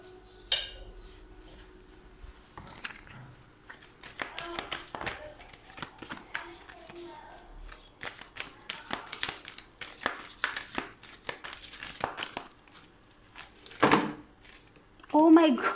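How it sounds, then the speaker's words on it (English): Tarot cards being shuffled by hand, a series of soft papery riffles and slaps in irregular bursts, close and fairly quiet, with someone talking now and then. "Wait, I'll just shuffle again."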